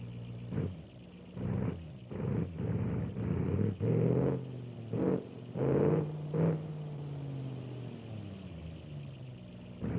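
A late-1960s muscle car engine idles in the BeamNG.Drive driving game. The rumble is steady and close, with a few revs early on before it settles into an even, deep idle with no talk.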